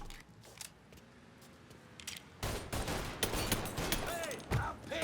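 Enemy blind firing in the video game Mafia III, scattered shots at first, then a heavier sustained barrage of rapid gunfire, loud and near.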